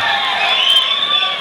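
An audience cheers and claps at the Irandam Ulagam audio launch with Surya. A brief, loud, continuous wash of crowd noise and shouts comes with no pauses.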